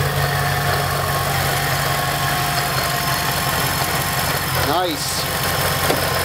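A cold Mercedes SL55 AMG with its supercharged M113K engine idles steadily and loudly up close, a short squealing chirp breaking through near the end, with a brief spoken word over it.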